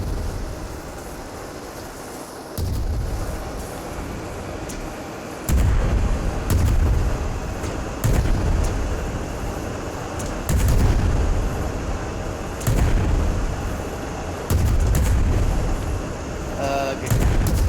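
Cannons fire repeatedly in the sky-ship video game Worlds Adrift, heavy booming blasts arriving every couple of seconds over a constant rumble, loud and close, with voices talking in between.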